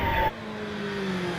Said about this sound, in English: This is Graham Wynn in the Gould GRW59. Runs a 4-litre Judd V8 engine.